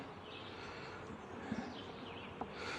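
Honeybees swarm over the frames of an open hive, giving a steady, faint buzzing drone with a few brief closer passes and no talking.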